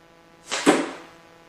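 A dart fired from a homemade blow gun, heard as a single sharp puff of air and a thud that fade within half a second, close and alone.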